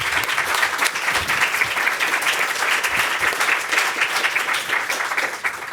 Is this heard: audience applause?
yes